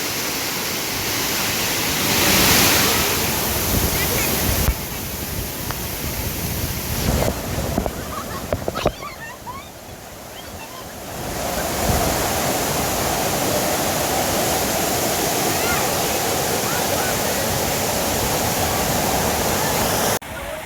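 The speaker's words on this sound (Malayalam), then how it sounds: "വാട്ടർ ഫോൾസ് വട്ടായി വാട്ടർ ഫോൾസ് എല്ലാവർക്കും സ്വാഗതം" Vattai waterfall in a forested setting sends up a loud, steady rushing roar of falling water, with some wind buffeting the microphone and a few handling knocks midway.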